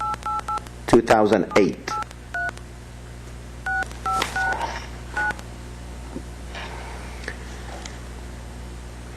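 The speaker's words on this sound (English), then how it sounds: "I think we hear you dialing the number" Telephone keypad tones beep in short bursts, several paired presses spaced over a few seconds. They play behind a remote caller's line noise, and a voice briefly speaks near the start.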